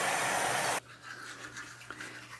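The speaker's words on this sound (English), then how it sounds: "I'll just brush my teeth." Someone brushes their teeth with a toothbrush, a loud close scrubbing burst that stops abruptly and leaves only faint room noise.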